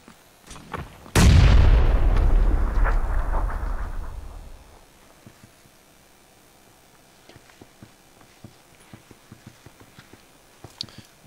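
A single loud, close blast of gunfire in the battle royale game PUBG booms and rings out for a few seconds, followed by faint scattered distant shots and clicks.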